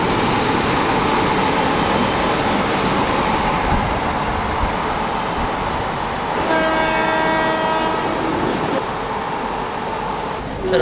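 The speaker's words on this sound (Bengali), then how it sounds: "জাস্ট রাজধানী ছাড়লো নিউ দিল্লি থেকে, একদম ডট টাইম 4:30 ট্রেন একদম ছেড়ে দিল" Rajdhani Express train departing New Delhi, a loud continuous rumble of rolling railcars with a long horn blast sounding for a couple of seconds midway.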